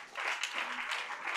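A church congregation breaks into applause during a worship service, a dense, steady wash of clapping that carries at an even, fairly loud level through the moment.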